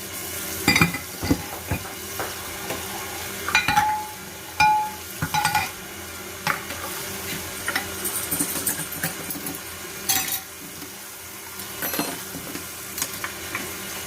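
Batter for blueberry cream cheese bread churns in a mixing bowl, a soft continuous swishing broken by scattered clinks and knocks of a utensil against the bowl, fairly quiet and close, with no talking.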